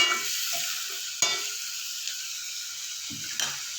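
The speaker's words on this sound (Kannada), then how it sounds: "ಸ್ವಲ್ಪ ಹಾಕ್ಕೊಂಡ್ರೆ ಈರುಳ್ಳಿ ನೀಟಾಗಿ ಫ್ರೈ ಆಗುತ್ತೆ." Sliced onions fry in oil in a pan for a mango rice dish, giving a steady close sizzle with a few stirring scrapes and clicks, no talk.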